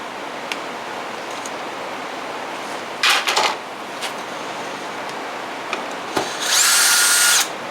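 A screw gun backs a screw out of a garden rake in short bursts: a brief whir around three seconds, a sharp click, then a louder sustained spin near the end, against quiet room noise.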